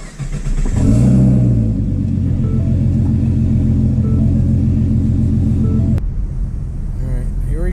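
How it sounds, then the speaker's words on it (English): A twin-turbo V6 car cranks and catches, then surges into a loud rev and settles into a throbbing, uneven idle before the engine note drops away abruptly near the end. A voice is faintly audible under the engine. "All right, let's start her up."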